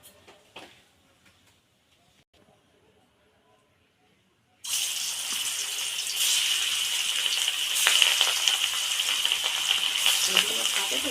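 Pangas and tengra fish are dropped into hot oil in a wok, and after a few seconds of near quiet a loud, steady, crackling sizzle takes over and keeps going.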